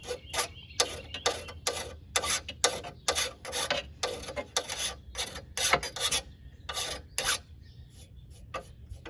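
Hand file rasping down a metal nub on a part from a WeedEater 21-inch push mower, in quick rhythmic back-and-forth strokes, close and fairly quiet.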